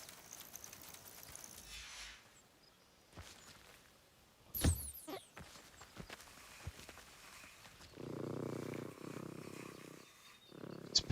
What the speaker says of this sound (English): It's purring like a cat.